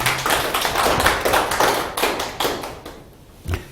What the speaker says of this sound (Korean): 그렇게 행하시겠다는 분만 박수 한번 보내주시죠.